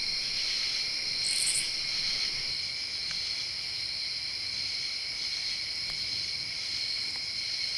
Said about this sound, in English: this type of katydid always makes me think of running your thumbnail along the teeth of a comb